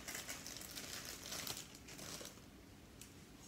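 Soft plastic packaging crinkles and rustles continuously as an Annoying Orange memory foam squishy toy is unwrapped, quiet and close with no talking.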